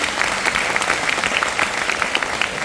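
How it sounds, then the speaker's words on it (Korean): Sustained applause from a large business-convention audience, dense and steady throughout at close range, with no voices standing out above the clapping. "엄청난 박수 한번 주세요."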